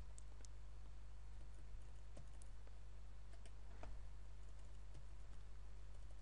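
Arrow keys on a computer keyboard are tapped in a quiet room, a scattering of faint, irregular clicks over a low steady hum.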